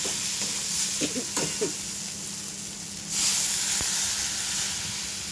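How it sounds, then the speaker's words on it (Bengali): About half a cup of water hits spice paste frying in a pan for a pointed gourd dish with Gobindobhog rice, setting off a sudden loud hiss of sizzling and steam after a few stirring scrapes. "এবারে সামান্য জল দিয়ে দেবো।"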